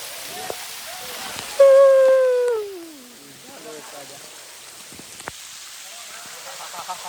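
Rain falling outdoors on a JCB machine makes a soft, steady hiss throughout. Partway through, a loud, drawn-out voice-like wail slides downward, with scattered faint knocks and voices in the background.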